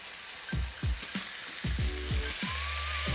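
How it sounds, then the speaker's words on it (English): Applewood bacon strips laid into a hot pan, each drop bringing a sharp sizzle that settles into a continuous soft frying hiss, close and moderately quiet. "applewood bacon and getting the pan nice and hot"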